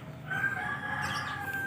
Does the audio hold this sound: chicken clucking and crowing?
yes